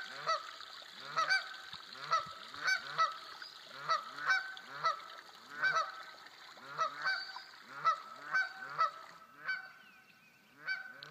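A flock of geese honks repeatedly in loud, overlapping bursts, with steady calls continuing throughout at close range.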